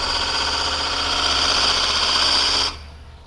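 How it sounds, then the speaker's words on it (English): A wood gouge cuts a thin elm burl bowl spinning on a lathe, giving a steady, loud whirring scrape that runs for over two seconds and then stops abruptly. "I'm not pushing the gouge through the bowl real fast"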